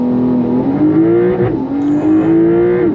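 A Porsche 911 GTS sports car makes a launch-control start, its engine loud and close as it climbs in pitch, drops briefly at a gear shift, then rises again.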